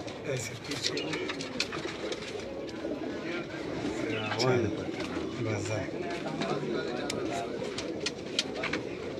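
Indian pigeons coo in low, soft, repeated calls close by, mixed with fluttering and rustling while people talk over them throughout.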